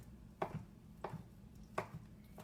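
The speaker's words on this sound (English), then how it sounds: "So we're going to chop that up here." A knife chops cooked chicken steadily on a cutting board, four distinct strikes at an even pace, close and fairly quiet.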